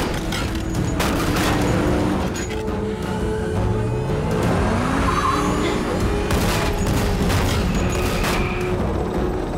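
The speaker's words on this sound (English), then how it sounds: "It is a modified 50 caliber machine gun." Modified .50-caliber machine gun firing explosive rounds in a car chase scene, heard as a dense, continuous barrage of booming gunfire mixed with engine and mechanical noise, loud throughout.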